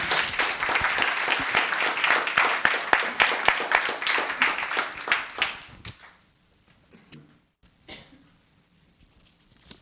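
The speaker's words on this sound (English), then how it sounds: "Let's give another round of applause for Claire Kennedy." A round of applause at a Los Gatos town council meeting: steady clapping from the chamber audience for about six seconds, then fading to scattered claps, coughs and faint murmurs.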